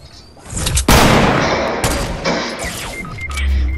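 Sniper fire in an online shooter game, with a loud sharp crack followed by booming reports and rolling echoes, several shots in quick succession close to the listener, with no talk over them.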